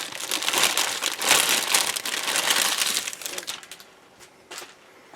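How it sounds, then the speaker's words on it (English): Close, loud crinkling and rustling of a plastic bag, continuous at first, then easing into a few quieter crackles. "excuse the rustling noise"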